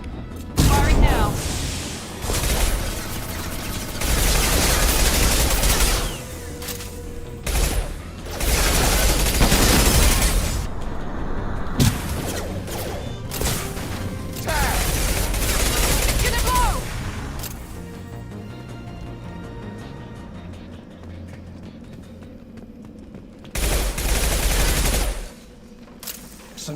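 Gunfire in Mass Effect 2, a running space-western firefight of loud, repeated bursts and broadband blasts that come in waves, with pauses between and a voice talking over parts of it.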